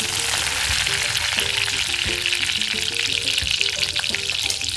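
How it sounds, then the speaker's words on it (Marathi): Cumin seeds crackle and sizzle in hot oil, a continuous close frying hiss with faint scattered clinks of a utensil. "तेल गरम झालेलं आहे आता आपण जिरं घालून घेऊया"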